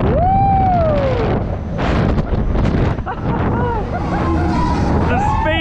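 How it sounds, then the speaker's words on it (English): Strong wind roars across the microphone on a fast fairground ride at a winter funfair in Hyde Park, London, a loud continuous rush with a rider's whooping voice over it. "Oh, it's so windy."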